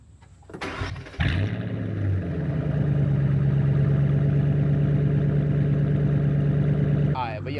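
A Ford Mustang's engine cranks and catches after a few clicks, then settles into a steady idle with a low hum held for several seconds before a brief closing noise.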